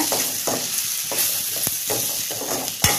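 A spoon stirs turmeric, curry masala powder and salt through a sizzling pan, with rhythmic scraping strokes about every half second over a soft, steady fry, and a sharper knock at the end.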